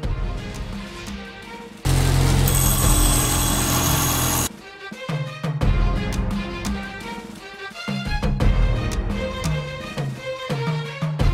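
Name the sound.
grinding lawnmower blade spikes with a grinder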